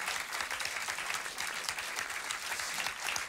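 A studio audience claps hard after a performance, a dense and even wash of applause at steady volume for the whole stretch, with no voices heard over it.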